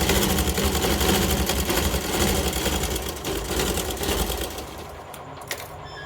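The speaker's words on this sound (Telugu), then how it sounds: "పైన కూడా ఒక స్టిచ్చింగ్ చేసుకోండి." An electric sewing machine running a line of top stitching on fabric, a fast, even mechanical whir close and loud that slows and stops near the end, with no speech.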